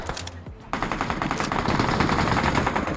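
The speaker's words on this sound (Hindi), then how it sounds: "लेकिन ये सामने किसी पे तो भी गोली चला रहा था।" Rapid bursts of automatic gunfire from the mobile game BGMI (PUBG Mobile), loud and sustained, with a brief pause before a long continuous volley.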